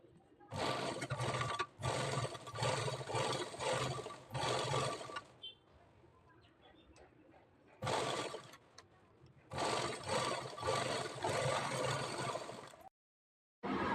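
A sewing machine stitches the front part of a blouse, running in several loud, steady whirring bursts of rapid needle clatter separated by short pauses, close to the microphone.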